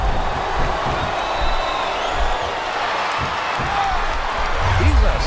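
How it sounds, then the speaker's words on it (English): A video game wrestling crowd roars and murmurs continuously in the background, with scattered shouts and a thud near the end, under announcers talking. "Sounds like this crowd's got something on their minds, King."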